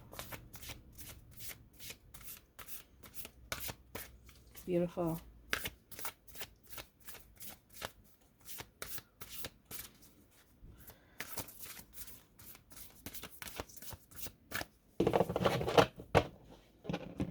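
Tarot cards riffle and snap in quick repeated bursts, close up, with a few brief spoken words and a louder flurry near the end.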